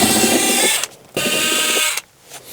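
A power drill removes bolts from the bed frame of a first-generation Honda CR-V, whirring loudly and close in two sustained runs of under a second each, with a short quiet gap between them.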